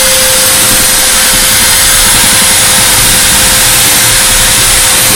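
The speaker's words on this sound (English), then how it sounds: "So that's the one that she's using the nylon abrasive cup wheel." A nylon abrasive cup wheel on a power tool scrubbing bathroom tile, a loud continuous whining grind with a constant tone and heavy broadband hiss, very close and steady throughout, no speech.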